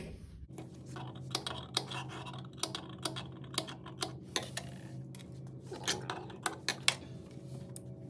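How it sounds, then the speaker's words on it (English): Scissors snip into fabric along a concave neckline facing curve, a series of short crisp cuts in an irregular rhythm, close and fairly quiet, with no talking. "This is a concave curve, so it would appreciate some snips."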